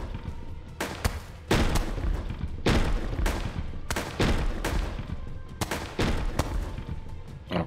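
Gunfire from a weapon shooting zombies in the game Above Snakes comes as about eight sharp, loud shots at uneven intervals, each with a short reverberant tail and no talking.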